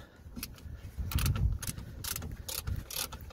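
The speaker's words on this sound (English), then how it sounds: "So this one is a 14mm bolt." A ratchet loosening a rusty 14mm brake pipe bolt on a Peugeot 207 gives a steady run of close, sharp clicking, made louder by a few metallic knocks of tools and parts. Nobody speaks.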